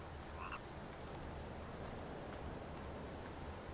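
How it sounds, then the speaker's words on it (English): Frogs croak in the video game The Forest, a faint, continuous chorus over low outdoor ambience with no one talking. "I know I'm hearing frogs."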